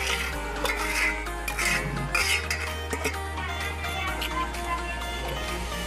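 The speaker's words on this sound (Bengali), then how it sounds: "চুলাতে বসিয়ে একটু নেড়ে ছেড়ে দিচ্ছি" Pieces of raw mango for a morabba are being stirred in a wok on a stove. A spoon steadily scrapes and rubs against the pan with occasional metallic clinks. A steady low hum runs underneath.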